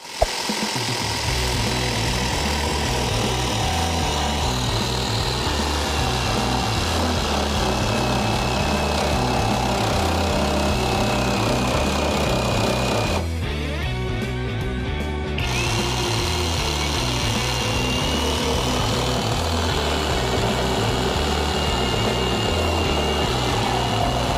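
An Einhell TE-AP 18/28 Li BL cordless reciprocating saw cutting wood along the grain buzzes continuously and loudly, with a brief dip in pitch partway through before the steady cutting drone resumes.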